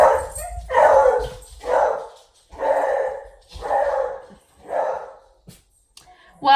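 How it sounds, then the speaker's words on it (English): A beagle barks six times in an even rhythm, loud and close, with a brief whimpering pause and no talking in between. "So just in case you're curious, he's a beagle."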